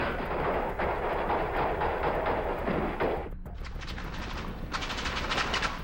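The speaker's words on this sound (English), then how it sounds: "that the gunfire erupted" Dense, rapid gunfire rattles in an archival recording of a police SWAT shootout, a sustained roar of overlapping shots followed by sharper, more separated bursts.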